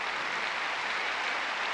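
At the 1993 French Open on centre court, a crowd gives Sergi Bruguera a dense, continuous round of applause, loud and steady for its whole brief length.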